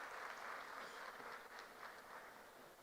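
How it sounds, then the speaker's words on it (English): Applause from an audience at a university event, a steady wash of clapping at moderate distance with no voices over it. "A big round of applause."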